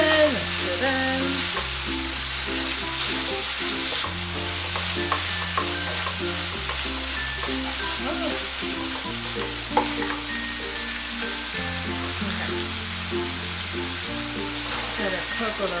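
Thai chili pork stir-frying in a pan makes a loud, continuous sizzle with stirring scrapes, and music plays underneath throughout.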